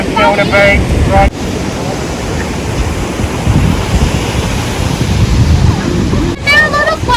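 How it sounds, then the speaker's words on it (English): Ocean surf rolls and breaks along an Australian shore, a steady wash of waves with wind buffeting the microphone, and children's voices briefly heard over it at the start and end. "There are a lot of waves closer to the bit all the way out there."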